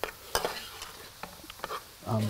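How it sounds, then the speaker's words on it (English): Mushrooms cook in a pan, a soft sizzle and simmer with occasional stirring and utensil clicks, faint and close, growing a little louder near the end. "now you can kind of hear it starting to simmer a little bit"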